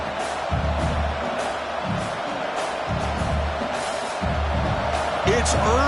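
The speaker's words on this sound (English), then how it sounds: "this crowd is fired up. Listen to this noise here." A large stadium crowd roars continuously at an LSU versus Wisconsin college football game. The noise is dense and sustained, with a commentator talking over it.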